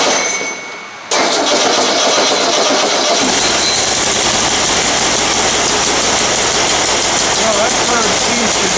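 An old VW engine with an electric choke, left sitting for eight years, cranks briefly and then catches, roaring into a loud, steady, rough idle that runs close by for the rest of the clip.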